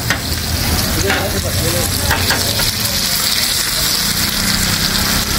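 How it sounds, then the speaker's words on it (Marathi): Gitali, a small fish, frying in hot oil at home, giving a steady, close, continuous sizzle with crackling throughout and no speech over it. "चालले गीताली फ्राय."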